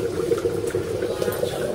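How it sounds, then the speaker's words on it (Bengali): Mutton curry boiling in a pot makes a steady, close bubbling and gurgling that runs continuously at moderate loudness, with faint voices in the background. "এই যে ফুটছে।"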